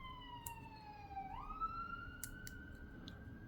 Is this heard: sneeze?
no